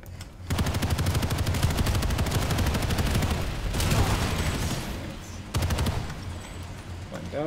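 Rapid automatic gunfire in the online shooter Planetside 2, with dense sustained bursts and crackling shots that continue almost without pause, then briefly drop out and start again, loud and close.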